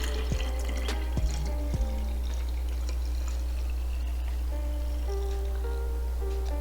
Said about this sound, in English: we're gonna pour this back in here